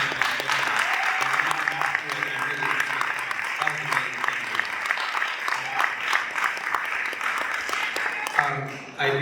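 Applause from a lecture audience at a swing-dance camp, steady dense clapping for the guests that carries on for several seconds and then tapers off, with a voice speaking over it.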